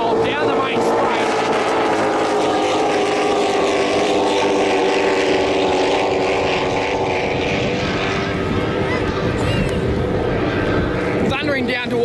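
A racing powerboat engine roars loudly and steadily close by down a race course's main straight, a harsh droning whine that holds for several seconds, with commentary talking over it.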